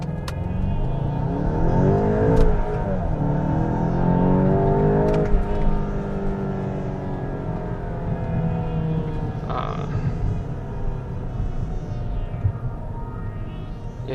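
A Volkswagen Golf GTI Mk8 accelerates hard from 0 to 100 km/h, the engine revving up through rising sweeps with brief dips at gear changes, heard loud and close from inside the car.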